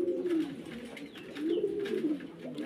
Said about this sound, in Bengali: একেবারে নিখুঁত কবুতর,